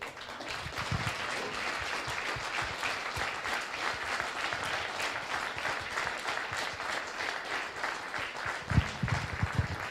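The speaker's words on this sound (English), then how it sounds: "stand up and take a round of applause" Banquet audience standing to give sustained applause for young mentees of a police athletic league mentoring program, dense steady clapping filling a large room for about ten seconds, with a louder swell near the end.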